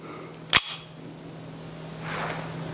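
A single sharp, loud crack from a TTI Pit Viper airsoft gas blowback pistol, followed by faint rustling and handling noise in a quiet room with a low steady hum.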